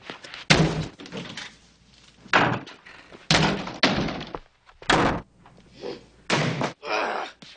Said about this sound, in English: the slamming doors was something that we had to rebuild the doors every season because I would slam them so hard